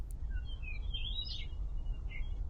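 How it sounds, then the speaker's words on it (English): Several thin, clipped bird chirps from a video game, The Search, scattered across a couple of seconds over a steady low ambient rumble, sounding flat and compressed like a cheap recording. "That bird sounds very, like, low quality."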